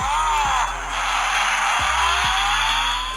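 Synthetic car engine sound effect played from a James Donkey 007 gaming mouse, a steady high revving drone with a few abrupt shifts, loud and close.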